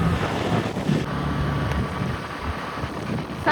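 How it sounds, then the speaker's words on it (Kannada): Strong wind buffeting the microphone while travelling by boat near Gokarna at dawn, a steady loud rushing roar across the whole clip with low rumble underneath and no voices. "ಗಾಳಿ ಫೋರ್ಸ್ ಜಾಸ್ತಿ ಇದೆ."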